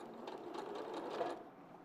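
Domestic sewing machine stitching a garment seam under the chin near a dart, a quiet, steady rapid whirring hum for a couple of seconds, faint and alone without talk.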